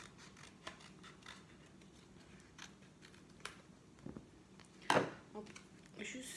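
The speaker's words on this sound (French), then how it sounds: "je vais juste prendre, par exemple, le petit carton ici et le découper." Scissors cutting a small piece of cardboard, a few faint, quiet snips and crunches spread over several seconds, with the sharpest cut near the end amid a soft room hush.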